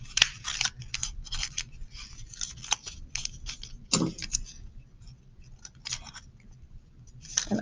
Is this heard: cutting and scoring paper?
yes